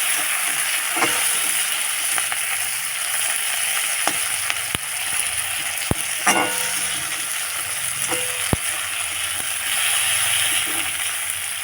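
Tomato, onion and green chili fry in oil in a pan with a steady, close sizzle, broken by scattered clicks and scrapes of stirring throughout.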